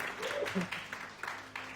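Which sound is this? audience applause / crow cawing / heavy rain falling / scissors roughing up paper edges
audience applause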